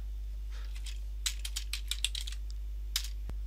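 Typing on a computer keyboard while entering a PowerShell command, a quick run of crisp individual key clicks, fairly close and quiet, with a final isolated tap after a short pause, over a low steady hum.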